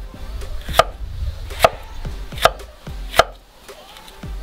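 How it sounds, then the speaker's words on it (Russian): A knife chops seeded bell pepper into cubes on a cutting board, four distinct thuds spaced evenly apart, close and clear with no talking. "Перец болгарский очистил от семян и также нарезаем кубиком."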